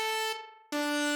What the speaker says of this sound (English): So the next layer is a lead sound again from Shinju Bank.